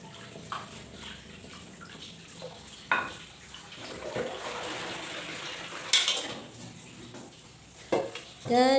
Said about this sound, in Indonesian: Dan di sini tuh wastafel aku itu mampet gitu ya teman-teman. Nah ini tuh airnya nggak mau turun ke bawah.